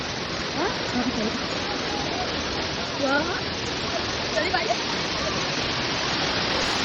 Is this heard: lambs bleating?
no